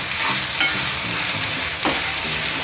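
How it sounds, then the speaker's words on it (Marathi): Turmeric, red chilli powder and coriander powder sauté in a pan with a continuous loud hiss of frying and a couple of brief stirring scrapes, heard close up and without speech. "हे सगळं आता परतून घेऊया आणि मग कोलंबी घालूया"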